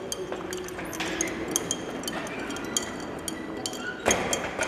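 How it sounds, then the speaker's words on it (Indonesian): A spoon stirs an iced melon drink with melon slices, basil seeds and syrup in a glass, giving light scattered clinks of ice and glass over steady restaurant background noise, with one louder clink near the end. "Kita aduk dulu guys."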